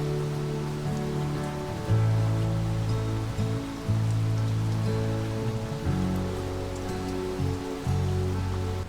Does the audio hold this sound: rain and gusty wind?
yes